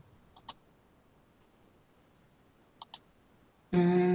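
A computer mouse gives a few quiet, sharp clicks: one near the start, then a quick pair a couple of seconds later, in an otherwise quiet room before a sudden loud noise cuts in.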